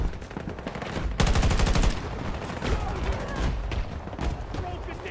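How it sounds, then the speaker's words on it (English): Rapid rifle gunfire from the shooter game Battlefield 2042 rings out in a dense burst of sharp cracks near the start, followed by scattered shots and game noise over continuous background activity, with a voice present in the mix. "I just shot this man out of the air from long range"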